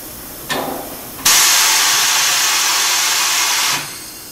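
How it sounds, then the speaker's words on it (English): A tire changer machine releases the rim and tire assembly from its table via the center pedal: a short puff of air, then a loud steady pneumatic hiss for a few seconds that cuts off. "To release the rim from the table, I need to press the center pedal and let it go."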